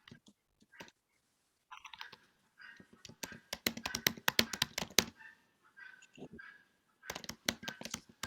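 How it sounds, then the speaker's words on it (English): Someone types on a computer keyboard in the background of an online worship service, with irregular bursts of quiet clicking keystrokes separated by brief pauses. "I can hear somebody typing in the background."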